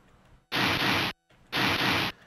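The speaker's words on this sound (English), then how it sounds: "that's the sound of snow" Snow sound effect from the MS-DOS video game Crypt: two bursts of harsh, hissing static, each lasting about half a second and separated by a short gap, loud against a faint background.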